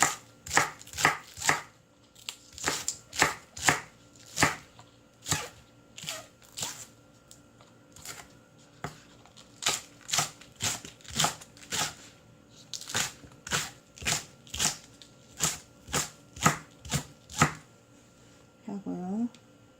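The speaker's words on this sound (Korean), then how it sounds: "양파 반개 썰어주고요." A knife chops onion and green onion on a cutting board for a spicy blue crab stew, giving crisp, regular thunks in quick clusters for most of the stretch. Nearby and fairly quiet, a soft voice is audible briefly near the end.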